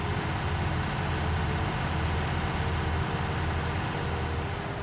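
A tractor with wide tires and wheel weights hauls a heavy 6,000-liter load of manure in Farm Sim 19, its engine a steady, loud, low diesel drone that holds even and unbroken throughout.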